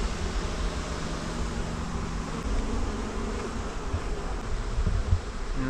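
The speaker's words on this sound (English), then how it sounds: "That's bees fanning the air, putting the pheromone out into" A colony of rescued bees fans the air inside a box, a steady dense buzzing hum with a faint low drone running through it, continuous and close, with no one talking.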